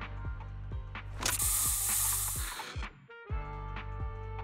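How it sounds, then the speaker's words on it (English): A special bamboo spray is sprayed in the Zenless Zone Zero video game, a loud breathy hiss lasting about a second and a half. It sits among rhythmic mechanical game sounds and a low steady background tone. "Here, have a taste of this special bamboo spray!"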